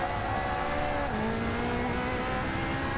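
A race car in Gran Turismo Sport brakes hard into a corner, its loud engine note dropping sharply in pitch mid-way, then holding a lower drone with faint tire squeal.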